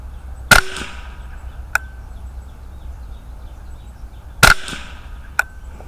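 A Victor RPG 10-22 rifle in a competition chassis fires two sharp, loud shots a few seconds apart, each followed by a fainter metallic ping downrange, against quiet outdoor background.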